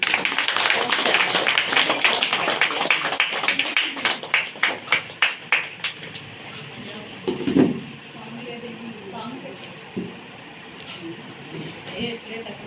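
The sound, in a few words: audience clapping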